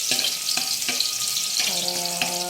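Garlic fries in a pan toward a light golden brown, a bright continuous sizzle with a few soft knocks and clinks of utensils, close and steady.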